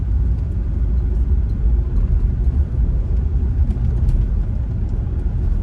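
Steady low rumble of a Dodge truck driving around the block, heard from inside, continuous engine and tire noise with no talking.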